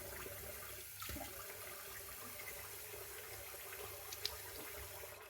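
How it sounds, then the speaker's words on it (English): Warm water running steadily into a bathroom sink during a face rinse after shaving, a constant soft wash with a few small splashes. "let's rinse off first with the warm water in the sink"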